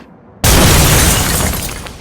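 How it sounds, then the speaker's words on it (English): A loud explosion in the video game Batman: Arkham City bursts in suddenly after a short quiet lead-in and then roars on with a sustained, crackling rumble that fills the rest of the moment. "somehow Catwoman is capable of surviving an explosion right on her face"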